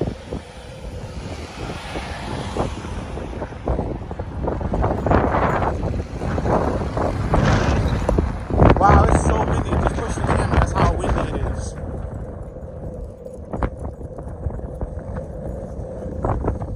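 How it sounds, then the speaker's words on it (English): Strong wind buffets the microphone on a downtown Kansas City street, with gusty rumbling that swells and fades; people talk over it at times. "It's so windy out here,"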